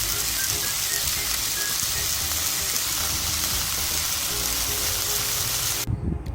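Beef steak sizzling loudly in a hot pan, a steady crackling hiss that runs continuously and cuts off abruptly near the end.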